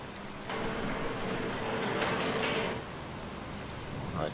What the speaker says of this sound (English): All my straw bales are getting rained on